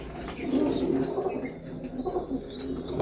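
Budapest pigeons coo in low, throaty murmurs close by, with soft rustling and a faint flutter of wings mixed in.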